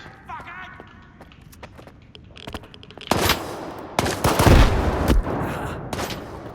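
Gunfire in the game Stalker 2, with scattered sharp shots and then heavier bursts with booming impacts, loud and close. Someone talks over the shooting.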